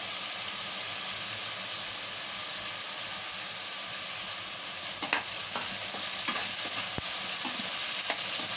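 Oil sizzles steadily in a pan while cooking a thick fish curry, with a constant hiss and scattered pops and scrapes in the second half.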